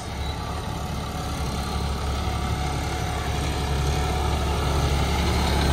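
A John Deere 5210 tractor with a super seeder runs steadily nearby, a continuous low diesel drone with an even rumble that holds level throughout, no voices over it.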